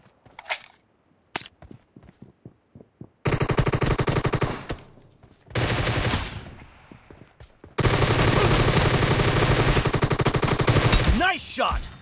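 Rapid automatic gunfire from a shooter video game, with a few sharp single shots early on, then sustained loud bursts of machine-gun fire separated by brief pauses, all close and dominant.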